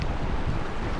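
Strong, cold river current rushing past during an overland trip in Washington, a dense, steady roar of flowing water with wind buffeting the microphone, lasting only a moment.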